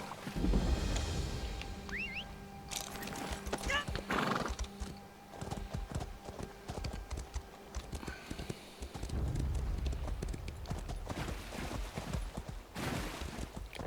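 Horse hooves clip-clop steadily over ground in the video game Elder Scrolls Online, with a horse neighing and snorting now and then amid outdoor ambience.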